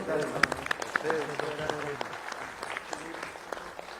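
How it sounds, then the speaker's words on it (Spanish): Applause from an audience at a multisector meeting against a public employment bill, moderate and steady with sharp individual claps standing out, voices and chatter mixed in throughout. "Un fuerte aplauso."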